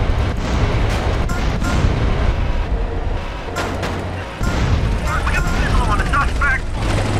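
A tank firing its cannon in GTA San Andreas, heavy booming blasts and explosions over a constant rumbling engine drone, with a brief lull in the middle before the loud barrage resumes.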